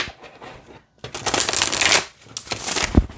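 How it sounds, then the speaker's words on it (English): Glossy, flexible, wide manifestation cards being shuffled by hand, giving a close papery riffle in two bursts with a short pause between them and a final sharp snap. "It shuffles really nice as well."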